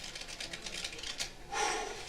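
A single shuffle of a deck of playing cards during a magic show: a rapid, soft fluttering riffle of cards, close and fairly quiet, ending in a brief brushing squaring of the deck.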